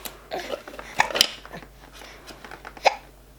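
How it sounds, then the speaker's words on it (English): A five-month-old baby hiccups a few times, sharp brief catches spaced irregularly over quiet room background, with small soft vocal noises in between. "You got the hiccups."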